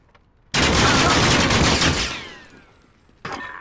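Gunfire in a video game shooter: a loud, sustained burst of rapid shots lasting about a second and a half, then fading into a decaying tail, with another short blast of shots at the very end.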